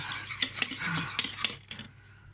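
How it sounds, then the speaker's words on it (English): Softened butter for sand cakes whisked by hand in a bowl, quick irregular metallic scraping and clinking strokes, close and moderately loud, tapering off toward the end. "It's still a load of whisking."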